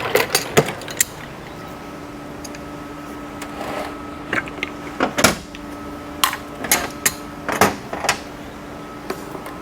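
Metal clicks, creaks and short clanks of a speedometer housing being worked loose from a Buick-Oldsmobile-Pontiac TH350 automatic transmission, with irregular bursts of contact over a faint steady hum and no talk.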